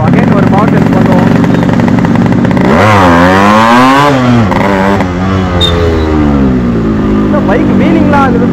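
A Yamaha RX 135 two-stroke motorcycle revs loud and close during a power test, its engine note sweeping sharply up and down before holding at a high, buzzing pitch.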